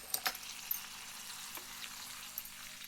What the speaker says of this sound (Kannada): ಒಗ್ಗರಣೆ ಕೊಟ್ಕೊಂಡೆ.